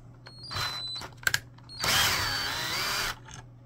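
Power screwdriver backing a screw out of the upper cover of an HP Officejet printer, two whirring bursts with short clicks between, close and fairly loud, no talking.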